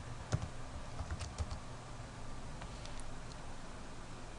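Quick keystrokes on a computer keyboard as an SSH command is entered, soft irregular clicks over steady background hiss, fading into near-silent noise.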